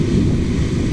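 Ocean surf on a beach with rip currents rolls and breaks in a dense low rumble, mixed with gusty wind buffeting the microphone, loud and continuous without talk.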